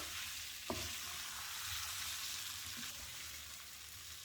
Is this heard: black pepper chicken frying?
yes